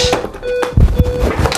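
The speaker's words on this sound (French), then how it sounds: "j'ai dû couper le réveil" An alarm clock beeps with a steady electronic tone running through most of the moment, broken by a few loud thumps and bumps as someone fumbles nearby indoors.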